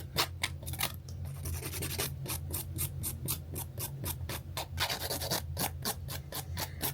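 A coarse nail file rasps across press-on nails in quick, rhythmic back-and-forth strokes, a dense run of short scratchy sweeps, close and fairly quiet.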